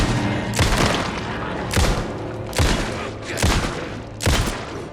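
Gunfire in the Alan Wake 2 video game: five heavy, booming shots spaced roughly a second apart, each loud and close with a long reverberant tail fading between blasts.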